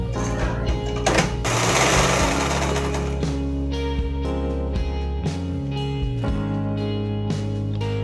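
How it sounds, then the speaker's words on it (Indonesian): A sewing machine stitches the strap onto a fabric mask, giving a loud, close, rapid mechanical chatter with a steady rhythm, briefly speeding up and interrupted by short pauses and knocks. "Kita jahit dengan bagian talinya di samping."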